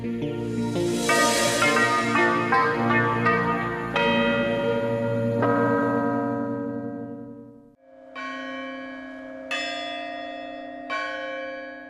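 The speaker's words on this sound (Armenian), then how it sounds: "Զրնգուն եւ ավետաբեր ղողանջում են Կոնդի Սուրբ Հովանես Մկրտիչ եկեղեցու զանգերը" Bells of the Saint John the Baptist church in Kond, Yerevan, ringing loud and close in layered, overlapping peals that decay, then a brief pause before a few more clear bell strikes ring out alone.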